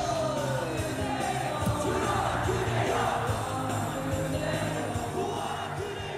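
A crowd roars and whoops for the Korea University and Yonsei University cheer squads on a studio talk show, a continuous wash of yelling and cheering at a steady, loud level.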